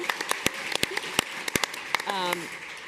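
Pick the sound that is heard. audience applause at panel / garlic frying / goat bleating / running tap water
audience applause at panel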